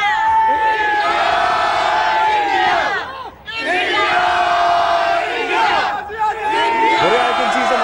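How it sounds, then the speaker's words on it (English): A large stadium crowd of cricket fans at an India versus Australia match in Sydney chants and roars in loud, sustained waves, voices rising and falling together with a brief dip partway through. "They want a chant for Team India. Can we have a contest? Go! India!"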